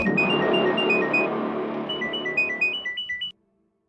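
A mobile phone in a Bengali CID crime drama plays an electronic melodic ringtone, repeating in a rhythmic pulse that gets choppier near the end and then stops abruptly, as if the call is answered.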